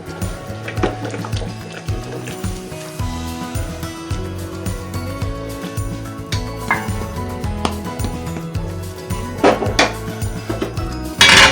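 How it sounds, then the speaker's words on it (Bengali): Fried onions being stirred into yogurt chicken in a pot, a spoon scraping and clinking against the metal while thick gravy squelches, close and steady with occasional sharper knocks, over faint background music. "আমি বেরেস্তাগুলো দিয়ে দেব। দিয়ে আস্তে করে একটু নাড়া দেব।"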